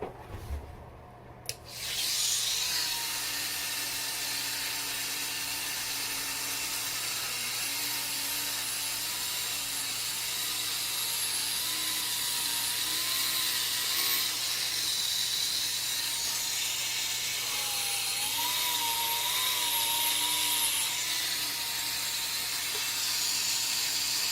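Plastic Essix retainer material being trimmed around the gum line of a dental model, a steady close hissing, rubbing rotary grind that runs almost without a break, with faint whining pitch shifts and no talk.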